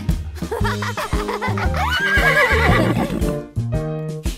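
A horse whinny rings out over the music of a children's farm song, bright and upfront, with steady instrumental backing and sung verses around it.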